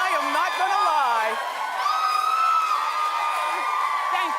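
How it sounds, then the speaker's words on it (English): Talk show studio audience cheering loudly with whoops and yells, a sustained energetic roar with rising and falling shouted voices throughout. "I love the roar of the crowd"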